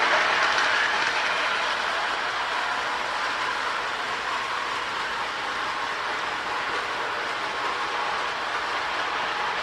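A Marx 1829 toy steam locomotive with smoke unit runs on its track, pulling a New York Central tender and passenger cars, giving a steady close whirring, rattling rail noise with no voices.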